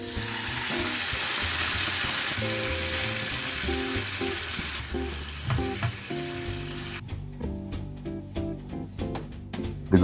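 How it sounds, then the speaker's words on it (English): Sliced white onion caramelizing in sizzling olive oil, a strong steady frying hiss that thins out, then gives way to scattered clicks and scraping stirring strokes near the end. "caramelize onions, quick and easy recipe with an Italian twist, sliced white onion, olive oil, heat"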